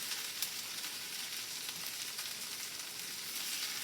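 Leftovers crisp in a hot pan with a steady, dense sizzle and crackle. The sound runs evenly throughout at moderate loudness, with no talking.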